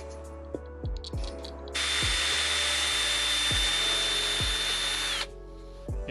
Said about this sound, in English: we're using the Ryobi drill and not the Milwaukee